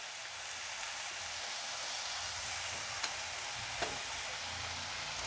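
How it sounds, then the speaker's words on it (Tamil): Vegetables for a hotel-style white kurma sauté in a pan over a low flame, making a soft, steady hiss of sizzling broken by a couple of small clicks. "இது வதங்கிறதுக்கு எப்படியும் நான் வந்து லோ ஃப்ளேமில் தான் வச்சுருக்கேன்."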